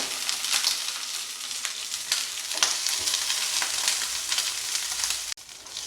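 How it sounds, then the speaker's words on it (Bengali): Green bananas fry in oil in a pan with a loud, dense, continuous sizzle, close by and steady, punctuated by occasional louder spits and a brief clack near the end. "কাঁচকলাগুলো ভেজে নেব"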